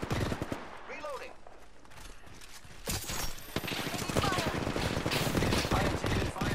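Rapid automatic gunfire from the video game Apex Legends rattles in dense bursts, easing briefly then returning louder and more sustained, with a voice talking over the shooting.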